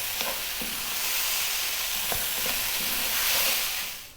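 Mushroom fried rice with spring onions gets stirred in a hot pan, giving a steady close sizzle broken by a few soft scraping knocks of the spatula, with no talk.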